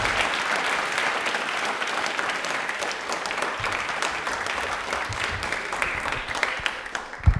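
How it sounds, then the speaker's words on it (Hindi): An audience at an Indian Railways quiz event gives a hearty round of applause for a guest, many hands clapping steadily and evenly at moderate distance throughout. "तालियां एक बार जोरदार सीमा विजय मैम के लिए बजा दीजिए प्लीज"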